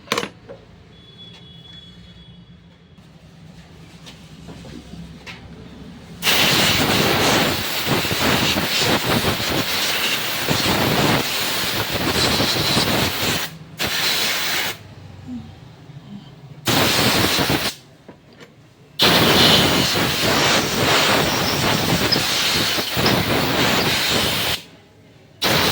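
Compressed air blasting into a Honda Activa scooter part, loud hissing bursts of several seconds each with short silent gaps between them, the longest blast running about seven seconds.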